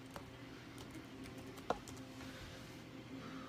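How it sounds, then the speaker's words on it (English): Typing on a computer keyboard while searching for crock pot recipes, a soft run of faint key taps over low room hum with one sharper click near the middle. "let's type in crock pot recipes"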